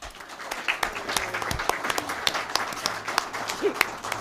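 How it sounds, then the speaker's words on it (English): A school district audience claps for its school board members, a scattered round of individual claps rising and falling steadily across a few seconds at moderate distance, with no talk over it. "why don't we give our nice school board members a round of applause?"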